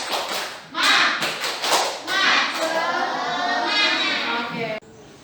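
Schoolchildren doing a rhythmic spirit clap in a classroom, bursts of patterned clapping mixed with shouted chanting voices, loud and close, ending abruptly.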